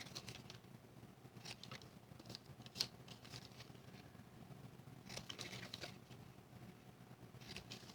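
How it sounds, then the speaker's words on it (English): Scissors give small pieces of card stock quick trims, producing faint, soft snips scattered irregularly over a quiet background. "I'm going to take my scissors, and on the little half-inch piece here, I'm just going to give these little pieces just a little trim"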